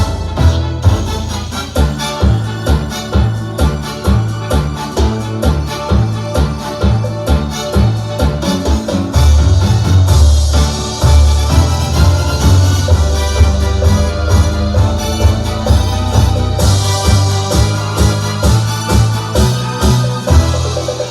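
A Williams Symphony Grand II digital piano plays its Cartoon March accompaniment style, a busy full-band arrangement with bouncy bass, steady drums and layered chords, loud and continuous with no talking.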